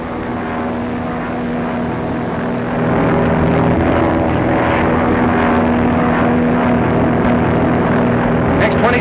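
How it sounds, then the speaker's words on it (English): A 1935 patrol plane flying overhead, its propeller engine droning loud and steady with a rough buzzing hum that swells after a few seconds and holds close by. "Patrol plane scouting."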